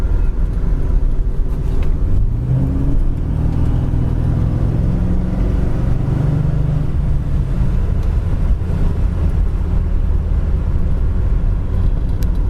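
A 1970 Ford Torino cruising at around 45 mph, a steady low engine drone and road rumble with a brief rising tone early on, loud and close with no talk.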